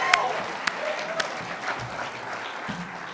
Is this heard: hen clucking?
no